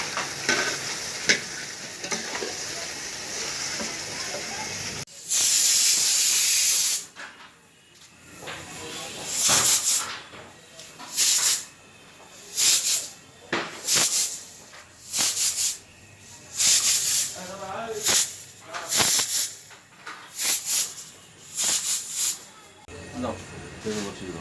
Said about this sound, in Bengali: এই দেখো, আমি এখন মটন রান্না করছি।